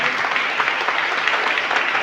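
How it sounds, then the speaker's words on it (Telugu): A church congregation clapping loudly and steadily together during a Telugu prayer service, a dense continuous wash of hand claps close and filling the room. "అందరు గట్టిగా చప్పట్లు కొట్టండి,"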